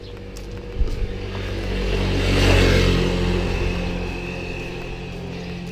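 Motorbike engine traffic in a hot Batangas City street in the Philippines, one machine swelling closer and louder in mid-clip then fading away over a steady rumble of other engines.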